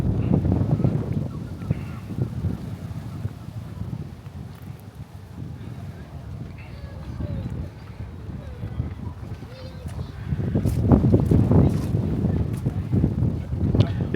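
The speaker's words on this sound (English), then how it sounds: "It is getting a little bit windy." Gusty wind buffets the microphone outdoors at Butlins Bognor Regis, a loud low rumble that rises and falls, with faint voices in the background.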